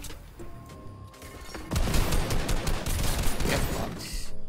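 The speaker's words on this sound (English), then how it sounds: "Fire missile!" A mech in Fortnite fires missiles with a sudden, dense barrage of rapid blasts and crackling explosions, loud and sustained after a quieter lead-in, with game sounds layered underneath.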